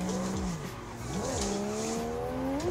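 A race car in the Assetto Corsa video game at the Ebisu Complex track launches after a clutch dump in third gear, engine whining and rising in pitch with tire squeal, loud and steady.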